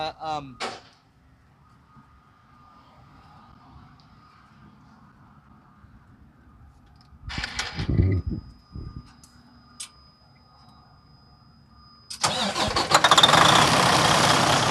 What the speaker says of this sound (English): There is no surging whatsoever going on with this motor.